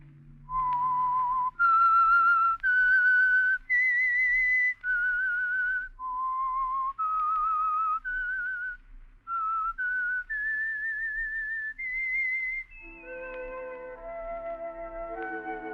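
A lone performer whistles the eerie theme signal of The Whistler radio mystery program, a slow melody of clear sustained pitched notes rising and falling, ending as orchestral chords swell in underneath.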